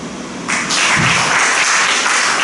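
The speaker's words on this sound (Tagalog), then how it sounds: "Bakit tayo pumalakpak?" A church congregation breaks into clapping partway through a sermon, a dense wash of many hands starting abruptly and sustaining steadily, with faint low voices underneath.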